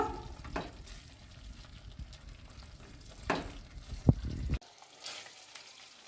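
Masala paste for prawn curry stirred in a pan: a soft sizzle with scraping spoon strokes, a few sharper clacks against the metal, and a quieter tail after a brief stop.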